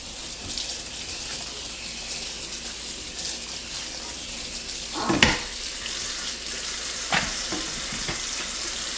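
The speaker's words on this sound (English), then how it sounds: "Fill this up with some cold water." Cold tap water pours steadily into a sink, a constant rushing hiss with a couple of louder splashing surges near the middle.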